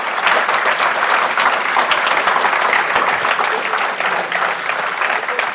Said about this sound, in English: That may be the applause line.